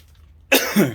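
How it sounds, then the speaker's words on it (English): A single harsh cough after a moment of quiet, close and fairly loud, with a second rough burst at the end. "hopefully this cough goes away"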